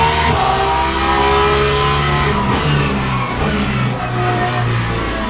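A race car engine in the Le Mans Ultimate racing game revs hard and continuously, its loud, rich tone rising and falling with throttle and gear changes, with no other sound over it.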